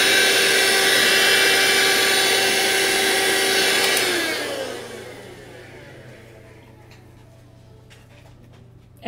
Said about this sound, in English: And by the way, that vacuum cleaner